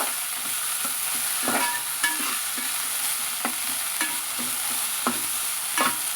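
Fresh coriander leaves roast in a pan for a ridge gourd and coriander chutney, giving a steady soft sizzle broken by repeated scraping stir strokes, close and moderately loud with no voices.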